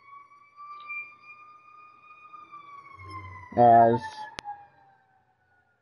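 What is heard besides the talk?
ambulance siren passing by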